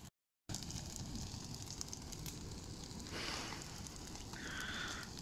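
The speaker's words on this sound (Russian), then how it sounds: "Пока горит костер" A backyard bonfire of branches and household rubbish crackles and hisses steadily at close range, with a brief louder burst partway through and a thin higher hiss toward the end; no one speaks.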